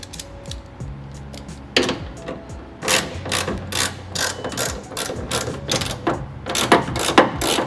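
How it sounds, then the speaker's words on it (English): A socket wrench fitted with a 10mm socket works bolts loose inside a third-generation 2015+ Toyota Tacoma, making close, loud ratcheting clicks in repeated rapid bursts with brief pauses between strokes. "And you can do so just with a 10mm socket and a socket wrench."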